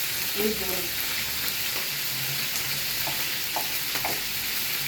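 Steady oil sizzle of chao fan fried rice frying in a hot pan after longganisa, a broad continuous hiss with occasional crackles and faint stirring clinks, no voices.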